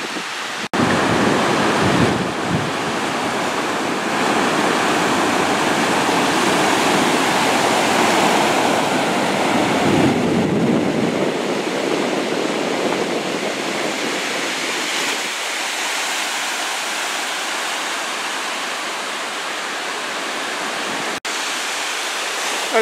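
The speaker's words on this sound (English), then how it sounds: "the wind is blowing right into my face." Strong wind on Burwood Beach in Jamaica, with heavy gusts buffeting the microphone over a constant roar of surf, loud and continuous before easing slightly in the second half, with no talking.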